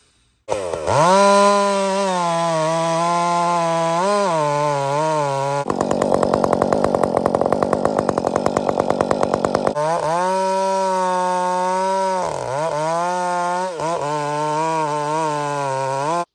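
A loud Husqvarna 562 chainsaw cuts wood, running steadily, its pitch dipping and rising under load, with a stretch of harsher, buzzing cutting in the middle.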